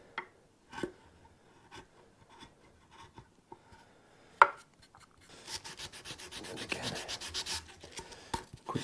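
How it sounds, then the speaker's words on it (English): Scattered light scraping and tapping, then a steady stretch of rhythmic rubbing strokes as a Telecaster guitar's wooden body is sanded by hand, quiet and close. "Bit of sanding should get us"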